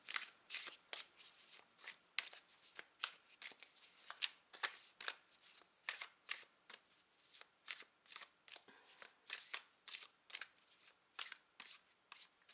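A deck of tarot cards is shuffled close up in quick, crisp riffling bursts. The bursts repeat steadily and stand out against a quiet, near-silent room.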